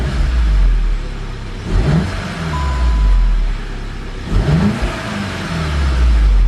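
VW Golf GTI Mk7 engine revving up and dropping back twice, each rise sharp and loud, then settling to a steady idle rumble, recorded close with no one speaking.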